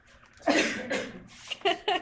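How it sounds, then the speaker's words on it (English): A few harsh coughs in quick succession, close by, with a short pause between the first pair and the last two. "just coughing"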